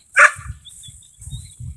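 A farm dog gives one sharp, loud bark nearby, followed by low rumbling background noise and faint murmuring.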